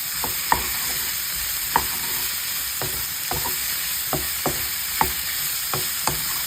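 Beef pares with star anise is stirred in a hot pan: a steady sizzle under a series of sharp spatula scrapes and knocks, roughly one every half second to second, close and fairly loud.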